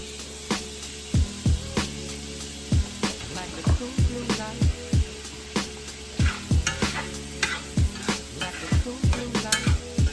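Shrimp and mushrooms sautéing in an oiled pan, a steady soft sizzle punctuated by repeated sharp scrapes and knocks of a utensil stirring against the pan, close and fairly quiet with no talk.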